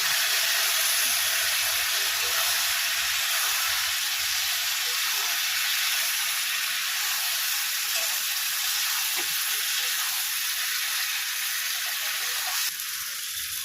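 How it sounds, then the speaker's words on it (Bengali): Spices, tomato and sesame-rinsing water frying in a pan for a tengra fish curry: a loud, steady, close sizzle that hisses continuously with little change throughout. "আমি এবার মশলাগুলো দিয়ে কষাবো। টমেটোটাও দিয়ে দেবো, তিল ধোয়া জলটা একটু দিয়ে দিলাম।"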